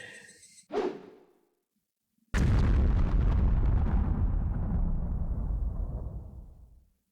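An atomic explosion effect in the Higurashi When They Cry visual novel: a short whoosh and a brief silence, then a sudden massive boom with a long roaring rumble that slowly fades out.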